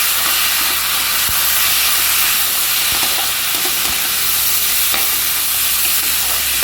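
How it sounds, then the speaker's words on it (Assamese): Washed masoor dal being stirred with spices in a hot pan, giving a steady, close sizzling hiss with a few soft scraping knocks and no talk. "এতিয়া এইখিনি মিহলাই ল'ব মছলাখিনিৰ লগত।"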